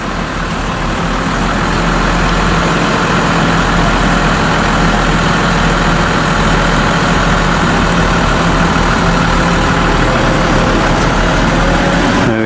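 A tractor engine runs loud and steady during a maize harvest with a trailer hitched, a heavy low rumbling drone that holds constant throughout, close and unbroken; no talking.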